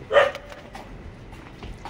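A single sharp dog bark near the start, then quiet background with faint scattered noises.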